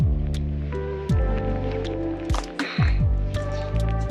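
Water poured into a pot of minestrone soup, a steady liquid rush with wet squishing and dripping sounds, close and fairly loud throughout.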